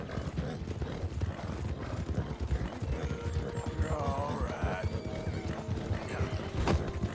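Hoofbeats from horses, including an American Paint and a Shire, galloping in a horse time trial video game, a steady fast clip-clop with a brief whinny, continuous and close throughout.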